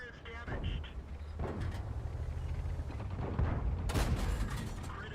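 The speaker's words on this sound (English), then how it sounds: "Aim at an enemy vehicle and fire." Tank cannon fire in the World of Tanks video game: a few heavy booming shots with rumbling low-end tails and sharp cracks, close and loud, mixed with game sound effects and a talking voice.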